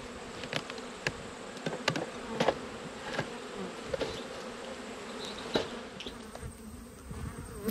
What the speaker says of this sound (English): So good bee numbers up the top.